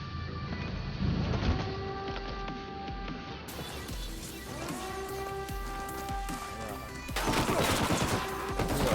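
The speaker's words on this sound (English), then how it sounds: "Taking fire from the camp entry." Video game gunfire from Ghost Recon Wildlands, with bursts of rapid shots crackling over a layered soundtrack and in-game ambience, growing denser toward the end.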